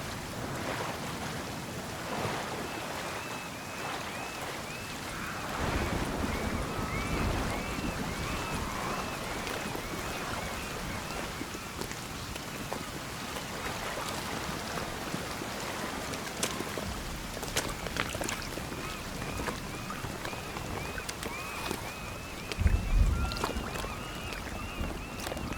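Swimming through water in the survival game Sons of the Forest: steady splashing and wave-like wash roll on throughout, fairly close, with occasional louder sloshes and a soft wind-like hiss underneath.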